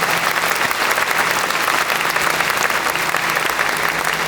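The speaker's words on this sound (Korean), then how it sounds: "큰 박수로 축하해 주시기 바랍니다" An audience claps steadily and loudly at a pastoral ordination ceremony where 129 pastors are ordained, sustained dense applause filling the hall without a break.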